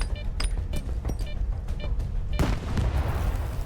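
Video game gunfire in a mission-based shooter, a burst of sharp reports and booming blasts packed closely together at moderate loudness, with a heavier explosive crack near the end followed by rumbling noise.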